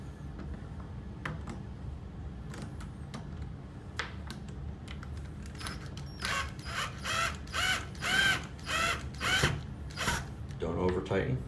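Screws being tightened while a heavy duty lock set is installed, a run of repeated ratcheting, clicking bursts that swell louder midway through over a low background rumble, with occasional faint voice underneath.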